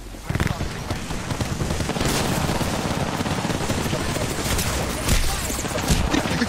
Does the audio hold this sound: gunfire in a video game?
yes